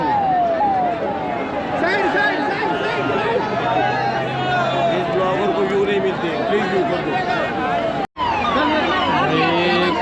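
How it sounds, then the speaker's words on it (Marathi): Loud, packed crowd noise at the Maha Kumbh, constant chatter and shouting with a siren wailing through the din and someone speaking over it; a brief dropout near the end. "काय गर्दी आहे तुफान गर्दी भरपूर गर्दी"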